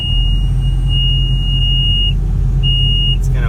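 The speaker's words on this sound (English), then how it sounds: "It's gonna beep because the park brake's on and the seatbelt's not on" A John Deere 544K wheel loader sounds its warning beeper because the park brake is on and the seatbelt is unfastened. The loud, high tones repeat in uneven pulses over the engine's steady idling rumble.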